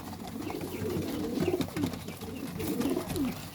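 Pigeons cooing in repeated low, throaty rolling calls, close and steady against a faint background hiss, with no talking.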